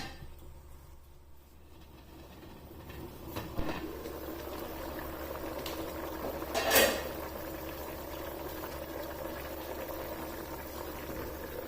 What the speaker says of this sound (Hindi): अब इसे कवर कर देना है और इस पानी को अच्छी तरह से बॉईल होने देना है।